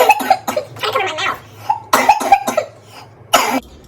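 A woman coughs in a run of sharp, close bursts, several in quick succession with short pauses between, ending in one final loud cough; no speech.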